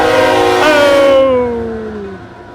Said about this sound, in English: Here we go, train. Whoa, train.